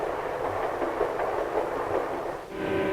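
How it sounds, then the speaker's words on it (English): A vintage passenger train hurries through farm country, its steady broadband rumble and rolling wheel noise sustained throughout, close and continuous with a faint rhythmic clatter. "Now the train's hurrying through farm country."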